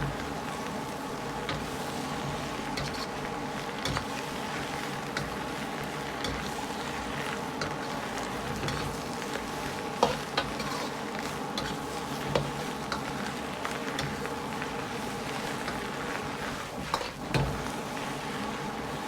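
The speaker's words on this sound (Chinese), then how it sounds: "再倒入白菜叶一起翻炒。" Cabbage leaves stir-fried in a wok over a small home stove turned to its highest flame give a steady, close sizzle and hiss, with occasional soft scrapes and knocks from tossing.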